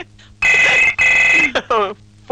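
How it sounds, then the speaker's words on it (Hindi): A telephone rings in short bursts, an electronic bell-like trill repeating with brief gaps, close and clear. "फोन।"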